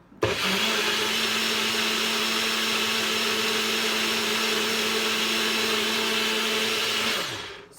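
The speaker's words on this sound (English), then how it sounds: "this is the blender that I have" A blender whirs loudly and steadily for about seven seconds blending a smoothie, a constant motor drone with a low hum, starting abruptly and winding down at the end.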